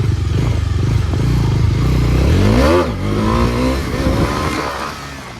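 Bajaj Dominar 250 motorcycles revving hard during wheelies on a group ride, a loud close engine roar that climbs and falls in pitch, with a swooping rev near the middle before easing off.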